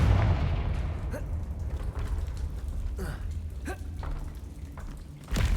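A Confringo fire spell explodes in a wizarding video game with a deep boom at the outset, followed by several sharp, short impacts and creaks spaced over a few seconds, then another burst at the end.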